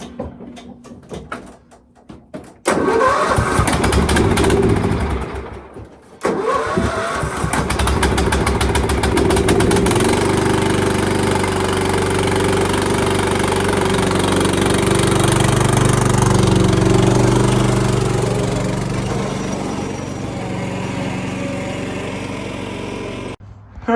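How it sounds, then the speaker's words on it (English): A small lawn mower engine with a carburetor being adjusted catches after a few faint attempts, then runs steadily and loudly near by for most of the stretch, its pitch rising and settling, with a brief drop before it resumes. "we're gonna get the lawnmower started right now and pull it out."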